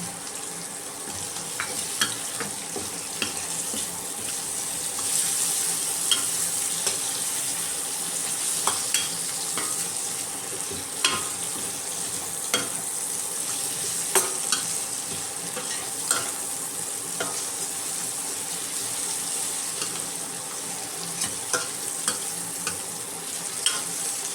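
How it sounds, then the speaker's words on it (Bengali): Prawns stir-fry with boiled chicken in a pan, giving a continuous sizzle broken by frequent scraping and clacking of a spatula, close and steady throughout. "এর মধ্যে এবার আমি প্রনগুলো অ্যাড করব।"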